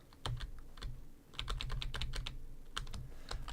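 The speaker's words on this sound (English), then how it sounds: "I don't know how loud my keyboard clacking is." Clicky computer keyboard being typed on in quick bursts of sharp, close keystrokes, with a brief pause partway through and no talking.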